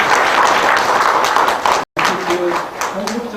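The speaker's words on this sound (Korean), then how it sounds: "세 번째 함께 큰 박수 한번 부탁드리겠습니다" Applause from the audience fills a policy forum hall on apartment housing management, a dense, steady clatter of many hands that stops briefly near the middle and then resumes, with a voice faintly heard toward the end.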